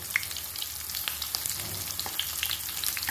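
Offal filling for Vietnamese blood pudding (tiết canh) fries in a pan with chili and shallots, a dense continuous sizzle with crackling pops and faint stirring, close and steady with no voices.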